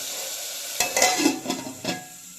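Black peppercorns roasting in a pan over a low flame, giving a few soft scraping stirs and light clinks with a faint sizzle underneath, close and quiet with no voices.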